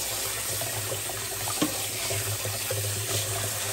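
Tap water runs steadily into a sink while boiled, smoked potatoes are rinsed, a constant close hiss and splash with a brief clatter partway through.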